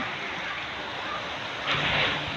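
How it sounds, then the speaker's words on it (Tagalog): Heavy rain pours steadily during Typhoon Kristine in Tanauan City, a dense, continuous wash of noise with a brief louder gust near the end. "Yan guys, so galit na yung ulan."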